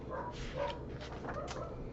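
Dogs barking softly in the background of a home, a cluster of several quick, muffled barks at low level with no talk.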